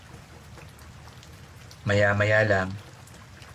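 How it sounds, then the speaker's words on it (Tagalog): Light drizzle begins to fall near a terrace, a soft, steady hiss that runs evenly throughout, with a brief spoken phrase heard over it partway through. "Mula sa terrace ay nakita kong nagsimula ng umambon."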